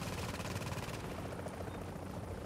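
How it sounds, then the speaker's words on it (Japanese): Video game helicopter arriving for a pickup, a steady low rotor thrum and broadband whine, loud and continuous across the short stretch with no talk. "パクってヘリ来たから。"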